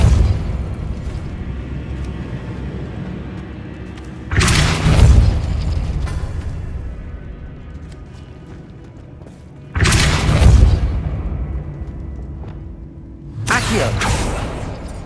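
Depulso spell cast in Hogwarts Legacy, heard as three loud booming blasts with a sharp whooshing attack, each fading slowly, separated by several seconds of quieter game ambience.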